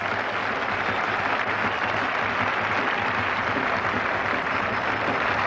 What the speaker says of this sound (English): that's brought the biggest round of applause of the morning, as you would expect, from the local boy, Graham Fowler